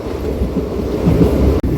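A DEMU passenger train runs at speed near the Hyderabad ring road, heard from inside the coach as a loud, continuous low rumble of wheels and body with wind buffeting, broken by one brief dropout near the end.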